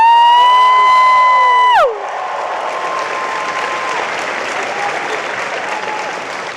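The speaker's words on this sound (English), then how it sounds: "make some noise for Mr. Charles Gray" Audience at a Halloween Horror Nights panel at MEGACON bursts into loud applause and cheering after a held electronic tone ends, the crowd noise steady and full through the rest of the clip.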